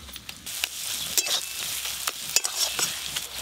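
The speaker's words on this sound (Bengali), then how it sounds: "একটু ভালো করে নেড়ে নেব" Katla fish curry with its spice mix stirred in a pan, a steady close sizzle under repeated scraping strokes and occasional metallic taps.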